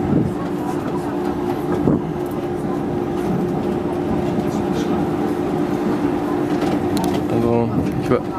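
A SkyTrain airport people mover rolls along with a steady rumbling hum and occasional rattles, and a voice talks over the ride.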